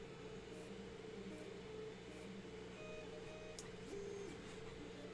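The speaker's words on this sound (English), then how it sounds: "what you're hearing in the background right now on the Creality, these are probably 4988 drivers" A Creality CR-10S 3D printer on stock A4988 stepper drivers runs with a steady mechanical hum and faint whining motor tones, continuous and fairly quiet in the background.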